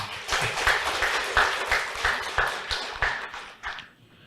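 An audience at a faculty of psychology graduation ceremony claps in a strong, rhythmic burst of applause that fades out after a few seconds.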